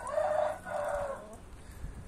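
A young rooster, its tail still growing, crows in two drawn-out calls close by, each rising and then trailing off, with a brief pause between them and a quieter stretch of farmyard noise afterward.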